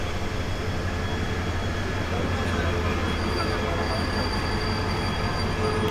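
Provati Express from Kishoreganj at Narsingdi station, a constant, moderately distant roar of rolling coaches with a high metallic wheel squeal running over it.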